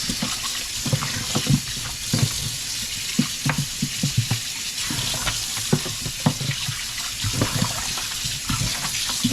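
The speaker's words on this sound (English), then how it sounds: "let that water just run away, get all that salty and that grease." Water runs steadily from a tap with a hissing wash, broken by irregular splashes and knocks as oxtail is rinsed beneath it.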